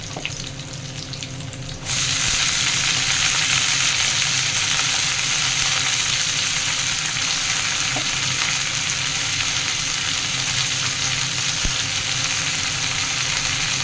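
Red amaranth greens drop into a pan of frying onions, setting off a sudden loud, steady sizzle that holds without a break.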